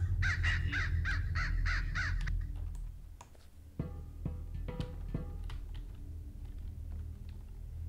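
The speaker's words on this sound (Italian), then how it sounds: "Sto corvo scorvaccio maledetto." Crow in the video game Hello Neighbor giving a rapid run of about six harsh caws, close and loud, followed by clicks, thumps and rustling game noises.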